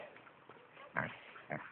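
A boar pig gives two short, gruff grunts about half a second apart, fairly close, over low background rustle with no speech.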